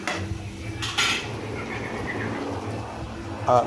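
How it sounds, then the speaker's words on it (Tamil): A spoon or spatula clinks against a pan while snake gourd fry is stirred in a village-style home kitchen, making a few sharp metallic taps over quiet background hiss. "வேக வச்சதுக்கப்புறம் நல்லா கிளறி விட்டுக்கலாம்"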